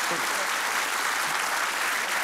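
Studio audience applause on a Dutch talk show, a steady wash of many hands clapping at moderate loudness with no distinct voices, continuous through the short stretch.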